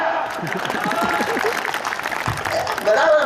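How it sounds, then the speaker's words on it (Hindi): Applause from an audience at a poetry gathering fills the clip, steady dense clapping with a busy crowd texture throughout. "कविता खत्म हो गई, ताली बजा।"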